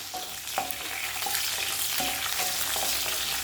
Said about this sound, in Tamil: இப்போ எல்லாம் சேர்த்து நல்லா வதக்கிக்குவோம்